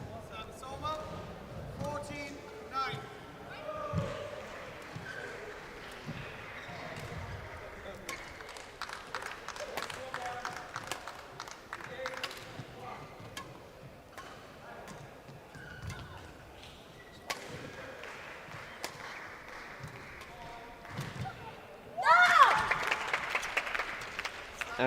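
A crowd at a para badminton match in Dubai claps in scattered bursts throughout, swelling into a louder round of applause near the end, with a commentator talking over it.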